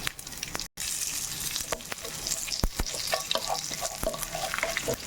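Cumin, mustard seeds, crushed garlic, asafoetida and curry leaves frying in hot oil, a close crackling sizzle with sharp sputtering pops and spoon-stirring clicks, one brief silent gap near the start.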